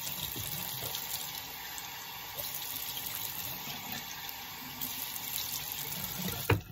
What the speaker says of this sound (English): Okay, now I'm gonna rinse my face with some water.